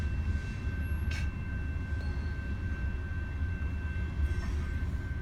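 A train rolls past a railroad crossing in Perry, Michigan, a steady low rumble of wheels and cars heard from a moderate distance, with a faint constant warning tone above it.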